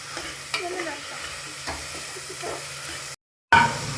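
Tomatoes and other vegetables for methi pulao sizzle and are stirred in a hot pan, steady frying with occasional scraping, then a brief silence.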